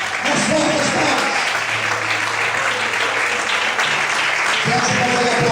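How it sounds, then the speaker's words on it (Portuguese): Worshippers in a church applaud strongly for the Lord, a dense unbroken clatter of many hands lasting throughout, mixed with shouting voices and a held low keyboard tone. "Peço para você aplaudir o Senhor."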